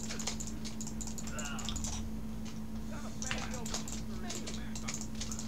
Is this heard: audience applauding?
no